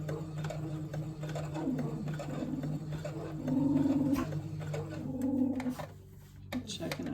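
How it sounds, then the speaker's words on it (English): A sewing machine stitching a collar and stand, its motor whirring in short bursts beneath a person talking nearby. "And then you're going to sew, make sure everything is flat."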